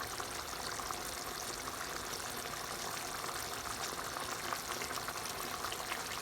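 Manchurian balls simmer in a thickening sauce, giving a steady, even bubbling hiss that holds at a constant level throughout with no distinct strokes.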